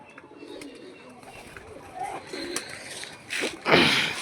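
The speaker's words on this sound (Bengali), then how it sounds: "সব ধাড়ি পায়রা" Adult pigeons cooing in a loft, soft low coos near and far with a few flutters and a louder burst toward the end, over a quiet rustling background.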